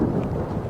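Deep rolling thunder from a storm over an airport rumbles loud and low, with rain hissing underneath and no voices.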